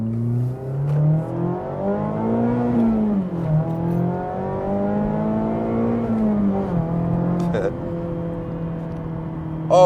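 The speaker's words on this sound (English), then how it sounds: "that exhaust sounding good when it's cold" Mazda ND3 Miata exhaust while driving in cold winter weather, a steady low drone with engine pitch rising and falling through gear changes, heard from inside the car.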